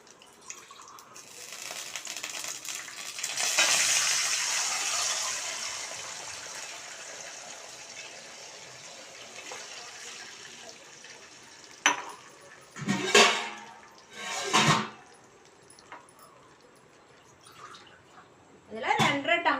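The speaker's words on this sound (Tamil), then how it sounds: "இப்போ நம்ம இதில் தண்ணி ஊற்றிக்கிறோம்." Water pours into a cooking pan for rice upma, a steady hissing gush that fades out, followed by a few clinks of pots and utensils.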